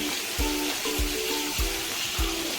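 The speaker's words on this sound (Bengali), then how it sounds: "রসুনের টুকরোগুলো দিয়ে দিলাম দিয়ে আরও বেশ কিছুক্ষণ ভাজতে হবে" Spices, tomato and garlic for ghugni fry in hot oil, a steady close sizzle broken by rhythmic scraping stirs roughly every half second.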